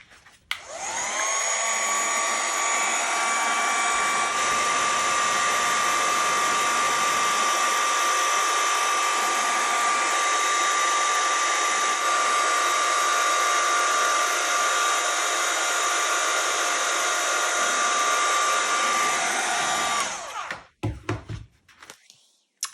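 Heat tool blowing hot air to set ink on a handmade craft card, a loud steady whining roar held close for about twenty seconds before it shuts off with a few knocks and clatters.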